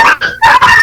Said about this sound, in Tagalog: Nag-aaway yung mga aso.